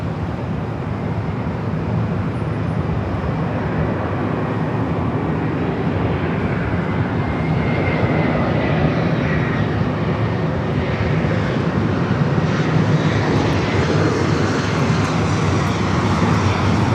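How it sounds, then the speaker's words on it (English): Airbus A321 airliner at Los Angeles International Airport, its jet engines a steady, loud broadband roar that holds throughout with a slight swell toward the end, no voices over it. "This flight heading to Atlanta, flight 395, an A321."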